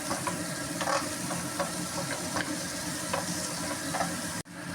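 Onions sautéing in a little oil in a pan, a steady close sizzle with small crackling pops scattered throughout and a brief knock near the end.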